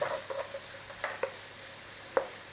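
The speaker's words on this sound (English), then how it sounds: "In there, garlic. Just give it a little second in that little bit of oil that's in there." Garlic sizzles quietly in a little oil for sausage pasta, a soft steady frying hiss broken by a few light stirring clicks and taps.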